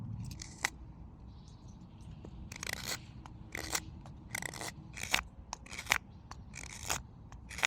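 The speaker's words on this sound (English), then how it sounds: "reveal the top of the head by removing wood with some more sweeping between the ears" A knife whittles wood, shaping the head and ears of a sleeping cat figure, with a series of crisp, short shaving cuts and scrapes close up, coming in uneven bursts over a quiet background.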